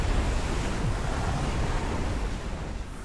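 Continuous rushing ocean waves with a windy hiss, dense and even throughout with no talking, heard in a Super Smash Bros Ultimate cutscene where figures plunge into the sea.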